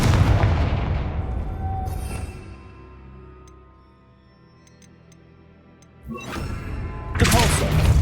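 A Confringo fire blast spell explodes in the Hogwarts Legacy video game, a heavy booming roar that fades into a low lull before fresh loud blasts crash in near the end.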